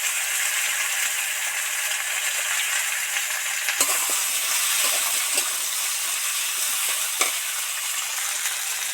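Vegetables fry in oil in a pan for a spinach curry, with a continuous close sizzle and a few scraping stirs.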